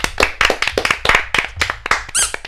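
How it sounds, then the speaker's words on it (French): A small group of improv performers applauds themselves with brisk, uneven clapping for a couple of seconds, close and fairly loud, ending with a short whoop or whistle. "Vous pouvez vous applaudir, franchement."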